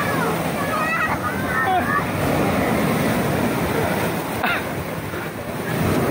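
Sea waves wash and surge steadily at a beach during a windy monsoon season, a continuous broad rushing roar with wind buffeting the microphone and faint voices in the background.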